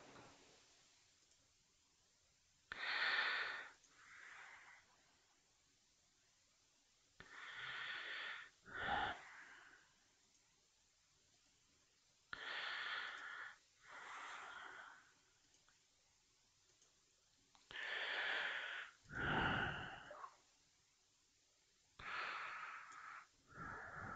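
Breathing picked up close by a sensitive new microphone: six or so separate breath bursts, each a short airy inhale or exhale with a slight wheeze, spaced a few seconds apart over near-silence.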